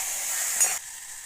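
Aloe vera stalks tipped into hot oil already tempered with mustard seeds and cumin give a short, loud sizzle that cuts off abruptly after under a second.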